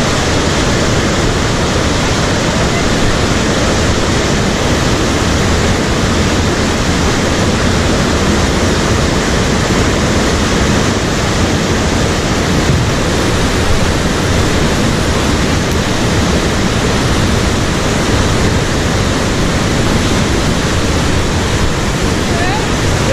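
A river waterfall on the Irondale-Burnt River roars continuously with loud, dense rushing whitewater that holds steady and close for the whole stretch, with no breaks.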